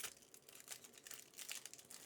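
Foil booster pack wrappers for Magic: The Gathering cards crinkle and tear in a steady, close run of bright rustling bursts, fairly quiet, with no voice over them.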